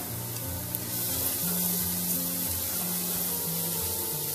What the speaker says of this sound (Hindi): अब मैं इसमें सबसे पहले डालूंगी तकरीबन 2 टेबलस्पून जो है अदरक लहसुन का पेस्ट।